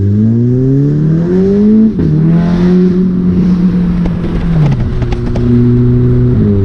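Toyota Corolla engine revving hard through rising gear pulls, loud and close, with a whining tone that climbs, drops at each shift and climbs again.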